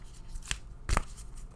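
A Sufi Wisdom Oracle card deck is shuffled in two quick, soft riffles about half a second apart, faint and close against a quiet room.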